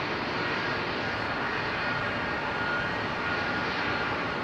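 A Boeing 767 jet at London Heathrow Airport gives a loud, steady broadband roar with no breaks, heard from a fair distance.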